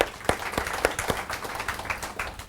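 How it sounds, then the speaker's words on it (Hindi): Applause from an audience at a motivational talk in Mumbai, steady crowd clapping with sharper individual claps standing out, fairly close and continuous, with no speech over it. "मैं आपके लिए ताली बजा रहा हूं"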